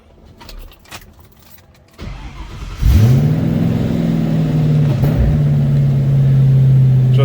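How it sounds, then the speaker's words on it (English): A 1941 Ford 5-window coupe street rod's V8 cranks and catches, then settles into a loud, steady idle with a deep rumble; some clicks and handling noises come before it. "Let's go ahead and fire this up so you can hear it run."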